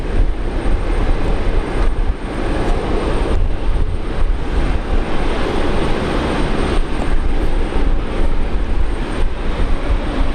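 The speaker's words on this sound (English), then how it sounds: "Lining up Air New Zealand 777." Air New Zealand Boeing 777 jet taking off at Brisbane Airport, a loud, steady broadband engine roar that fills the whole stretch without letup.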